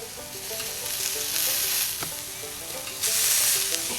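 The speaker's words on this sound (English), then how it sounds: "It's still sizzling." Steady, loud sizzling of steak frying in a hot pan while camping, a continuous crackling hiss that swells briefly louder toward the end, with no talking.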